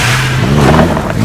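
A Triumph Tiger Explorer XCX motorcycle with a 3-cylinder 1215cc engine revs loud and close, a steady rising drone with no talk.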